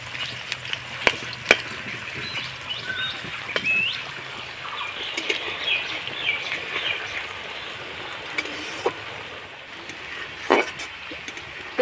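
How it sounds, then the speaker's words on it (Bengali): Thinly sliced onions sizzle and fry in hot oil, a steady crackling hiss close by, broken by occasional scraping clinks and knocks as they are stirred in the pan. "এবার পেঁয়াজটাকে একটু নাড়াচাড়া করে কিন্তু ভেজে নিতে হবে"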